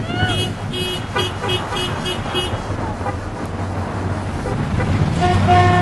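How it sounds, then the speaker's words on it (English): Car horns honk repeatedly in short bursts amid busy traffic noise, with a longer horn blast near the end. "We got a lot of honks."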